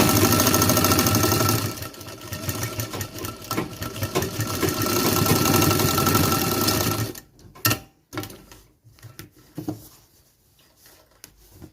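A sewing machine runs in a fast, steady chatter for about seven seconds while stitching reinforcement along the length of a trouser pocket, then stops. Only a few short, sparse knocks and handling noises follow.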